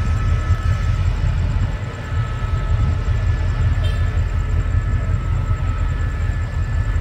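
An express passenger train arriving at platform 4 of Bangkok station, a steady loud low rumble of rolling wheels and engine that runs continuously, with a faint tonal hum on top and no talk.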